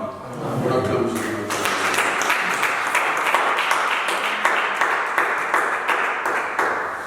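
A church congregation applauding Jesus during a French-language service, steady rhythmic clapping building after a spoken cue, with voices and an echoing tone over the crowd.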